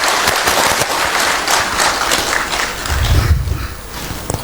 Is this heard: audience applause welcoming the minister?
yes